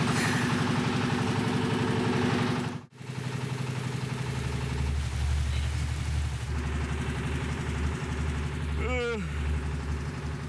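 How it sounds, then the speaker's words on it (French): Boat engine drones steadily on a long river trip in Brazil, a continuous low mechanical hum throughout with a brief dropout near the start and a faint rising tone late on, no voices. "C'est pas comme s'il n'y avait pas de bruit de moteur en plus."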